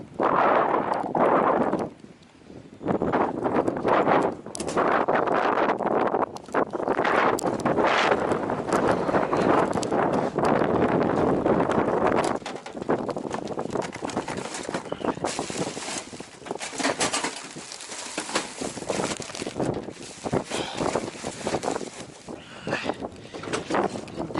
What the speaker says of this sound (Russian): Маленько ветер, дождик поливает.